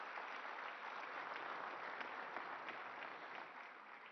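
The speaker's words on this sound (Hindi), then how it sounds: "आप सबकी करतल ध्वनि के साथ, आपकी तालियों के साथ" An audience at the Rising North East Investors Summit inauguration applauds Prime Minister Narendra Modi with sustained, even clapping that fades slightly at the end, heard at low level.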